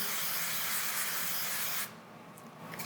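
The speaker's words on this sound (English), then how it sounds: "So here I go with the olive oil spray." A continuous olive oil aerosol spray hisses close up for about two seconds onto fish in a cast iron pan, then stops, leaving faint quiet handling sounds.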